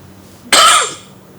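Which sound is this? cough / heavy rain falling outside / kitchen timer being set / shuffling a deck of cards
cough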